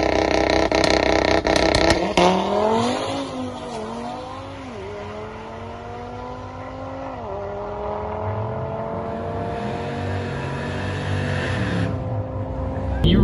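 A factory-engine, factory-turbo Audi TT RS with bolt-ons on drag radials accelerates hard down a street, its loud engine note rising through several gear shifts with falling pitch at each change, then pulling steadily away.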